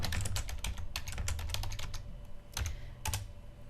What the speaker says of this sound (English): At this stage I can type directly into the document.